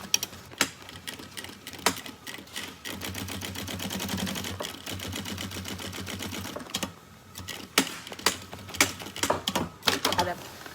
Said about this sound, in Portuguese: E costuramos então a beirinha aqui nesta parte de todo o comprimento.